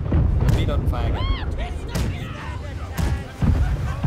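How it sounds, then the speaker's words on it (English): Broadside cannons of a sailing warship firing in the Blackwake naval combat game, heavy booms and thuds scattered through the clip while crew members talk over the noisy battle. "Left side cannons fire some."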